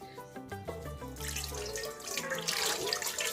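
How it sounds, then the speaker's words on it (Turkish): Water poured from a tap into a pot of stuffed dried eggplants, rising gurgle turning to a steady, close rushing splash. "yeteri kadar su dökün"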